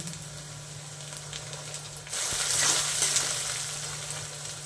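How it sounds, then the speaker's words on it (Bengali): Onion, garlic, chilli and tomato fry in hot oil for egg tadka with a continuous close sizzle that swells louder partway through as more goes into the pan, with occasional stirring. "এখন আমি তেলের মধ্যে পেঁয়াজ দিয়ে দিচ্ছি"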